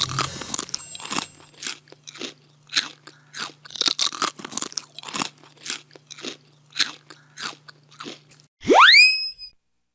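Someone eating lunch at a desk in a quiet office makes about a dozen crisp, close crunching bites with chewing between them, then a short springy boing sound at the end.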